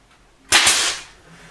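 A single sharp crack from a nail gun fired while installing wood trim in a hobby room, with a quick bright burst and a short tail fading away, alone with no talk.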